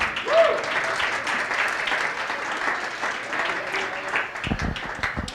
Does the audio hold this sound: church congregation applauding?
yes